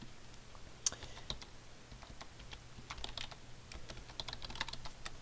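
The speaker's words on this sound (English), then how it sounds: "Just going to type something else." Steady typing on a computer keyboard while working in a graphics program, a continuous run of light, quick key taps at close range over a low background hum, with no talk.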